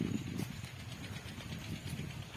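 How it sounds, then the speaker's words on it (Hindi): Several tractors move around fields being planted with peanuts, giving a faint, continuous low engine rumble that stays distant throughout. "कम से कम 8 से 10 ट्रैक्टर आज घूम रहे हैं इधर उधर।"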